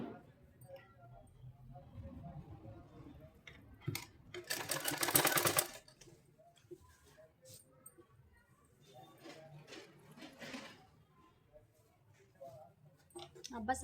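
Domestic sewing machine stitching gathers into a Patiala salwar, with short runs of rapid needle clatter, one loud burst in the middle, and someone talking between the runs.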